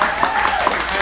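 A short burst of dense audience applause fills a room, many hands clapping loud and close at an event with a speaker.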